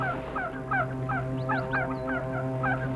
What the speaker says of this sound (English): Only sign of animal life was the geese migrating north for the summer.